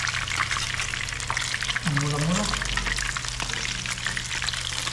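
Tilapia frying in hot cooking oil, a steady bubbling sizzle heard close by under ongoing talk, with a brief sweeping clatter partway through.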